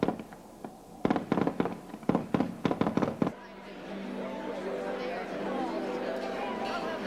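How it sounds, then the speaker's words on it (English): A string of sharp fireworks bangs pops at a distance at an evening celebrity sports event, then gives way to a dense crackling roar as a crowd cheers underneath. "dazzling display of fireworks"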